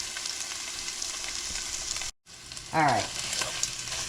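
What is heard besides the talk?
pound of sausage browning in a pan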